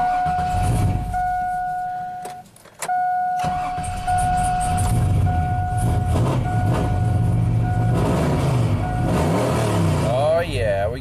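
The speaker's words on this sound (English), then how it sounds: "let's fire this thing up." A steady tone cuts off, then a GMC truck engine with a P0336 crankshaft position sensor stall-misfire fault cranks and catches into a loud, continuous idle rumble, with a brief chirp near the end.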